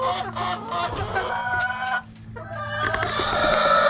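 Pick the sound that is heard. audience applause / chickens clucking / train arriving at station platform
chickens clucking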